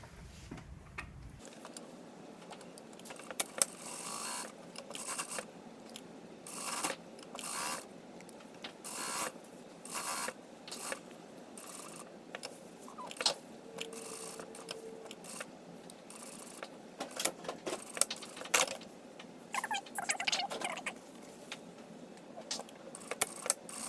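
A sewing machine runs short stitching bursts along a garment lining, its mechanical ticking and rattling starting and stopping in uneven spurts against quiet room tone. No speech.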